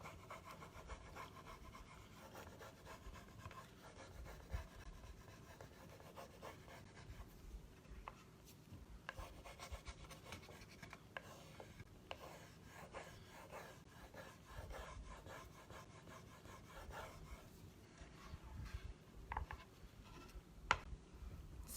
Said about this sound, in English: the transfer and just rubbing it along with my finger like that.